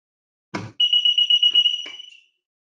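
A pivot irrigation control panel alarm sounds as a steady high electronic tone lasting about a second and a half, preceded by a short click or thump and briefly interrupted by small clicks.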